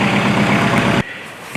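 A Kubota L4600 compact tractor's diesel engine idling close by with a steady low rumbling throb, then abruptly cutting off to leave faint background noise and a small knock.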